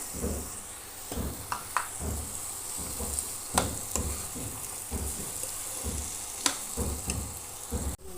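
Chickpeas tipped into a hot pan with potatoes crackle into a steady, low sizzle for about eight seconds, with a few sharp clicks and scrapes of stirring cutting through the frying.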